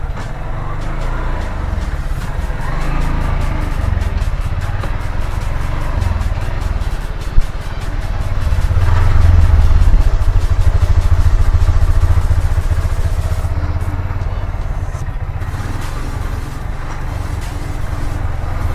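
Motorcycle engine running steadily in gear during a petrol test, a loud continuous low rumble that swells in the middle and then settles, with a brief clack partway through.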